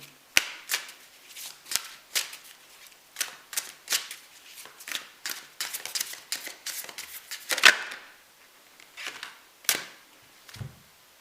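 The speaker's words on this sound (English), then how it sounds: "I'm just going to take one more card" Tarot cards shuffled in a steady run of crisp riffles and snaps, then a card drawn and laid down with a sharp flick, close and clear with no talking.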